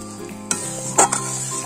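Curd sautés in oil in a pan for a vegetarian cauliflower dish, a close, steady sizzle with a couple of sharp spoon clinks and stirring scrapes, no voices heard.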